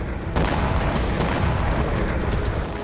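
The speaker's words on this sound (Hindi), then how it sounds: "बेलगोरोद में इस गैस स्टेशन पर भी यूक्रेन ने ड्रोन से अटैक किया। धमाके के बाद यहां आग लग गई।" Loud, rumbling explosion from a Ukrainian drone strike on a gas station in Belgorod, a dense continuous roar with crackling bursts and no speech.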